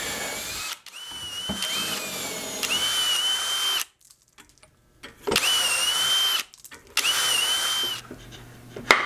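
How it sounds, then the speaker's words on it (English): A power drill whirs in several bursts while drilling holes in wood for a Mission-style bench, rising in pitch as it bites in, with short quiet pauses and clicks between the runs. "I'll drill the holes"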